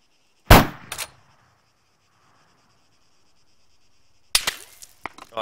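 Two short bursts of enemy gunfire in a military video game sniper mission, one sharp volley near the start and another cluster near the end, separated by quiet stretches with faint wind.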